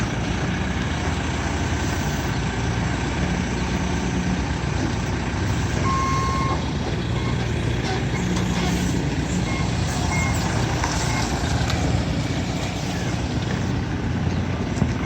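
A truck works nearby with a continuous loud engine rumble, and a faint reversing beep sounds briefly under the steady drone.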